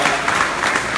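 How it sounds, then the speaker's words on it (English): An audience at a public event in Gambia claps steadily in dense, loud applause that fills the whole moment without a break. "Give a round of applause."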